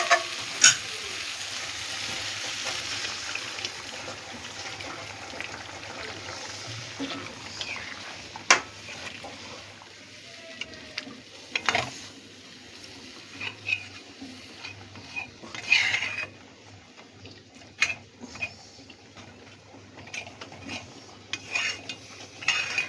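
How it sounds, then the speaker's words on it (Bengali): A tangra fish curry with added hot water bubbles in a pot, giving a soft hiss with scattered pops and clicks, plus occasional clinks of a utensil against the pot, close and quiet, with no talking. "ঝোলটা ফুটে উঠছে।"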